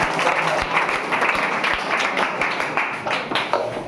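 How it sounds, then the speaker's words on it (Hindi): Classmates clapping for a student at a class 10 quiz competition, a crowd of hands applauding continuously, fairly close, with a few sharper individual claps standing out across the wash. "ताली मार दे एक बार।"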